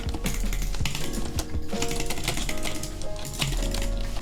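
Rapid keystrokes on a split computer keyboard during video game play, a dense run of clicking taps that continues over game music and sound effects for several seconds.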